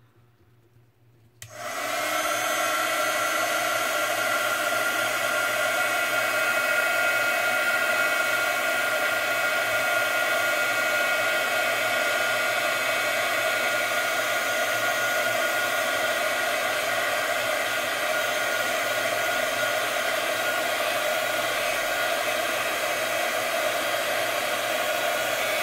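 A heat gun blows hot air in a continuous loud, steady whoosh with a constant motor whine, switching on abruptly after a brief quiet moment and running unbroken to the end.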